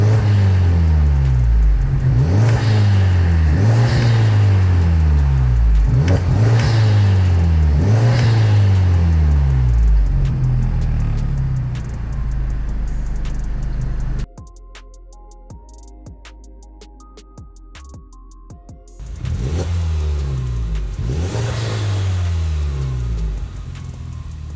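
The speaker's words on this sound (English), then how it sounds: "Here we are at idle and I'll give it a few revs." A turbocharged 2017 Honda Civic Type R FK8 engine with an Eventuri intake revs repeatedly in rhythmic bursts, rising and falling loudly, with a brief quieter idle stretch before the revving resumes.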